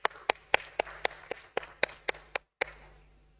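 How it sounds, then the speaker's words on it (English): A few sharp, separate claps ring out near the microphone at a stock exchange listing ceremony, an uneven sparse patter that cuts off abruptly after about two and a half seconds. "Let's give a warm applause to this auspicious beginning."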